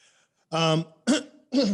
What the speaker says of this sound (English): Sorry, boys, got a little bit of a cough this morning.